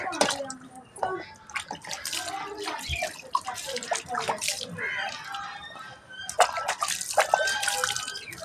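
A wick lamp, not true bell metal, is rinsed with tamarind water, giving irregular splashes, drips and running water up close, with a voice talking over parts of it.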